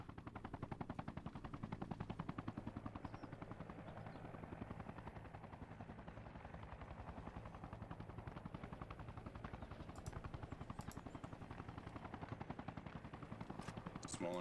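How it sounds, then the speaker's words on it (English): Small arms fire aimed at a helicopter in the Arma Reforger video game, with rapid gunfire bursts layered over the steady thumping drone of the rotor, faint and continuous throughout, with muffled voices. "Small arms fire at the chopper,"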